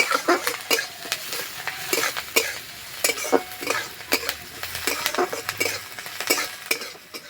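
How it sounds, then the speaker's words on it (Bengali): Onions fry in oil with a constant sizzle, broken by frequent, rhythmic scrapes and taps of a spatula stirring them around the pan, close and fairly loud. "পেঁয়াজটা হালকা লাল করে ভেজে নেবো"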